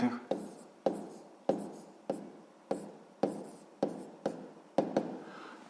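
Pen writing on paper during a sixth-grade math exercise, a run of regular scratchy strokes about every half second, close and fairly loud, with a teacher's voice talking over it.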